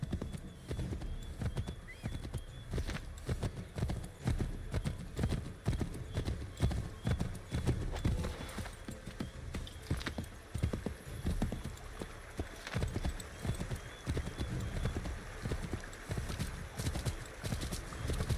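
Horse hooves clip-clopping in Assassin's Creed III Remastered, a fast, steady run of hoof strikes that continues throughout, with an occasional whinny and quiet game dialogue in the background.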